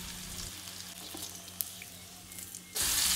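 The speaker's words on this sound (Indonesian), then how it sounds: "Selanjutnya goreng ikan asin pari sampai kuning kecoklatan." Salted ray fish fries in hot oil with a soft, steady sizzle that swells into a louder, brighter crackle near the end.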